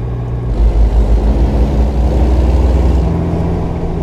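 Kenworth W900 truck engine in American Truck Simulator, a deep, loud diesel rumble that swells and holds steady as the rig gets moving.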